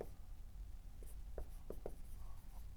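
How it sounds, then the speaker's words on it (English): Marker strokes squeak in short, quiet bursts on a board during an anatomy lesson, a few separate scribbles spaced about a second apart over a soft room hiss. "So I'm going to write that here in black for those cells."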